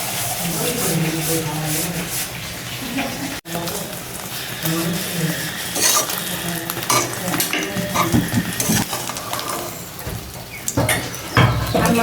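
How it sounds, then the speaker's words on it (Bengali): Beaten egg mixed with onion and chili fries in a pan for a breakfast to go with khichuri, sizzling steadily under clattering utensil scrapes, while people talk nearby. "খিচুড়ি খাওয়ার জন্য যে ডিম ভেজে নিতেছি, পেঁয়াজ মরিচ দিয়ে গোলাই নিছি ডিম"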